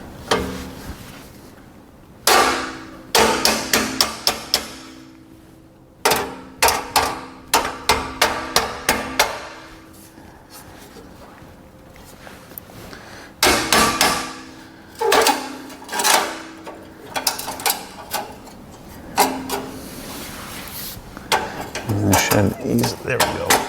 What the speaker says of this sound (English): Guess I'm just gonna need a hammer.